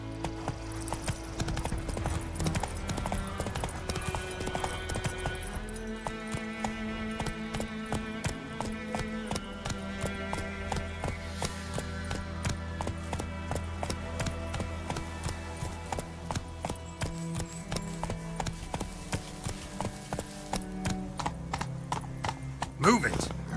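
Horse hooves galloping in The Witcher 3, a steady rapid clip-clop running throughout under game music and a rider's voice, with a brief whinny near the end.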